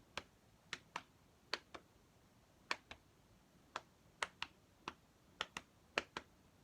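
Sharp hand claps or snaps in a neurological mental-status exam demonstration, sounding as about sixteen crisp, separate hits, some in quick pairs, fairly close and quiet against a still room.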